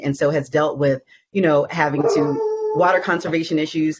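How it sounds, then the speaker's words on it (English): A dog howls in the background during a talk about water conservation, a sustained wavering tone rising under and between a man's steady speech. "That's my dog. He's chiming in."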